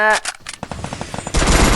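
Rapid bursts of automatic gunfire from the battle royale game Free Fire, with a dense volley at the start, a string of evenly spaced shots, then a loud sustained barrage at the end.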